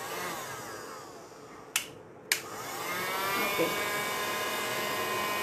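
A hand-held hair dryer blows a steady, moderate whoosh while drying paint on a homemade DIY welcome sign, broken by two sharp clicks partway through; a voice speaks briefly.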